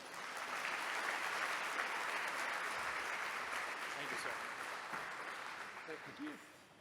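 A luncheon audience claps warmly to welcome a Major to the stage: steady, full applause from a large room that holds evenly, then thins and fades near the end.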